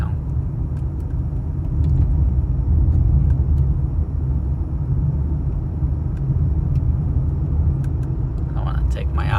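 An old, cheap Mercedes drives along the road, a continuous low engine and road rumble heard from inside the cabin, steady and fairly loud throughout.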